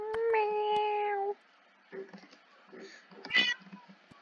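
Minecraft cat meowing in a long, clear, drawn-out tone near the start, followed by a few softer, shorter mews and a brief higher cry, close and fairly loud over a quiet game background.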